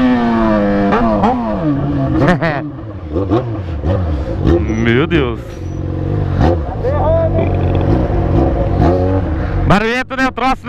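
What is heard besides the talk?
Yamaha XJ6 motorcycle engine revving with original exhaust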